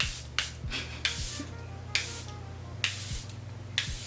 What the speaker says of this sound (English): now we're gonna just go ahead and set my makeup with the Airbrush Flawless Setting Spray